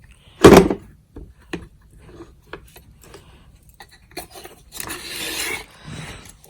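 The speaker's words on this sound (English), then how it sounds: "you just kind of release the latch, pull it out, and then you can put your nozzle back in" A 2010 Kirby Sentria G10 vacuum cleaner has its latch released and an attachment pulled out: a sharp plastic clack at the start, then scattered small clicks and rubbing scrapes, with a brief sliding rasp near the end.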